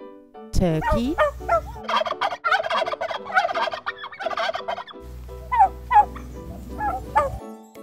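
A turkey gobbles in a rapid, warbling series of loud, close calls, with a brief pause before a second burst of gobbling, on a farm.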